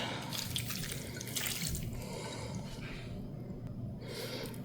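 Vinegar poured into a cucumber salad, a short liquid trickle and splash up close, fairly quiet and lasting a few seconds with no talking.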